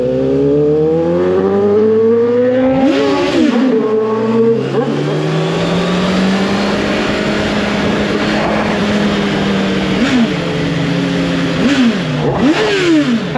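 A 2023 Honda CBR 650R motorcycle engine revs loudly and close, rising and falling through several sharp throttle blips over a steady idle rumble, with no talking.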